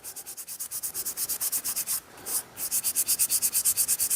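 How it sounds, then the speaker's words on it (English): Hand sanding an antique pickaroon to 600 grit: fast, even back-and-forth rasping strokes, about five per second, close and loud, broken by one short pause, with no speech. "Just doing a final sand to 600."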